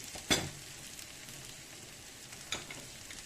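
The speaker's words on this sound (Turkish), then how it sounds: "güzel kavurursak bulgur pilavı da güzel olur arkadaşlar. Kavruldu bulgurumuz." Bulgur for a vegetable bulgur pilaf roasts in a pan, a faint, steady sizzle broken by two brief louder scrapes of stirring, with no voices present.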